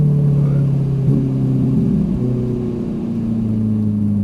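Steady, loud drone of a Ferrari 458 Italia engine heard from inside the car on a racetrack, with a brief pitch shift as it changes load, heavy low hum throughout.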